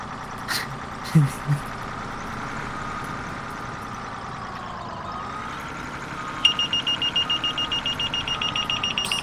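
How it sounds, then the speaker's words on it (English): A general fire alarm sounds at the DOT shop in the FS:911 firefighting game, a steady electronic tone joined late by a rapid pulsing beep that repeats loudly to the end, over a low engine drone. "general fire alarm at the DOT shop"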